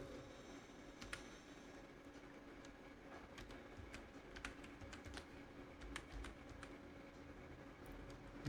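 Keys clatter steadily as a formula is typed on a computer keyboard while combining Excel workbooks in Power Query, with irregular clicks over a constant low hum and no talking.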